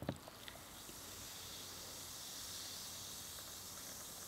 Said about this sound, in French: Je verse la première canette de 7-Up à la cerise.